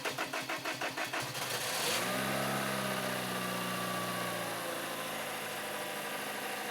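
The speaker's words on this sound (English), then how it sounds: "go ahead and start the engine" A 2018 Toyota Camry with a long-crank starting fault turns over in a rapid rhythmic cranking burst, then catches and settles into a steady, close engine idle that continues to the end.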